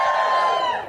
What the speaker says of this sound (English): give me a cheer if you already read Standard Issue